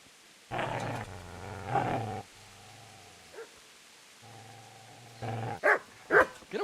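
A dog in the medieval role-playing game Kingdom Come: Deliverance growls and barks at the player in several loud, close bursts, with short gaps between.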